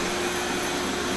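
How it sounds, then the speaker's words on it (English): A shop vacuum hooked up in a woodworking shop roars steadily and loud from start to finish, a constant broadband whoosh with no voices. "Vacuum on."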